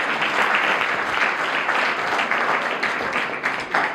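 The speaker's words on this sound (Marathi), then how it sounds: "ज्यांनी ज्यांनी भाषण केलं त्यांच्यासाठी खरंच जोरदार टाळ्या वाजवून मी सुद्धा त्यांच्यासाठी टाळ्या वाजवतो" A roomful of students gives loud, sustained applause for the student speakers at a farewell gathering, dense and continuous clapping close by for the whole stretch.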